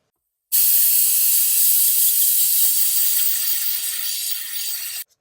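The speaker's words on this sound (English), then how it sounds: "Let's try blowing it out with some compressed air" A can of compressed air blasts a steady, loud hiss for about four and a half seconds while cleaning a car stereo disc, starting and stopping abruptly.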